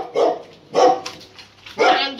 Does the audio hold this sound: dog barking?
yes